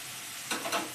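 Onions and tomatoes sizzling in a hot pan, a steady close frying hiss with two brief louder stirring bursts near the end, no voices.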